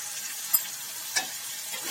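Turmeric, coriander-cumin powder and mild chili powder stirred into hot oil in a pan: a soft, steady sizzle broken by two quick scrapes of the spoon, with no voices.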